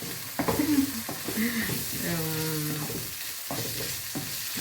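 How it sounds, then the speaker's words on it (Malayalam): Chopped tomatoes sautéing in a pan with oil for pasta, a steady close sizzle with stirring clatter and scraping, a spoon tapping against the pan. "ടൊമാറ്റോയും കൂടെ ചെറുതായിട്ട് അരിഞ്ഞെടുത്തിട്ടുണ്ട്. അതും കൂടി ഇട്ടു. അത് നന്നായിട്ടൊന്ന് വഴന്ന് വരട്ടെ."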